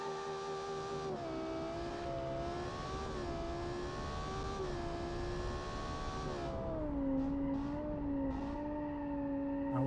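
A thousand-horsepower V10 turbo all-wheel-drive car accelerates hard with a loud, steady engine roar, its pitch climbing through several gear changes before dropping and rising again.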